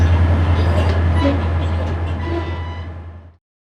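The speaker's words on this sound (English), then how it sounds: "I love riding on trains." Inside a passenger train in Alaska, a steady low rumble with faint rhythmic clatter carries on evenly, then quickly fades away.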